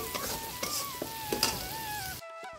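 Tilapia pieces frying in a pan as salt and turmeric are added, giving a steady close sizzle with occasional stirring scrapes and clinks before the sizzle drops away abruptly near the end.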